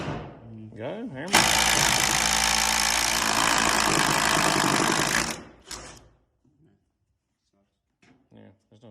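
A drill running in hammer mode with a Spyder Stinger tip bit, driven by a plumber, hammers loud and steady for about four seconds after a short start, then stops and leaves quiet sounds behind.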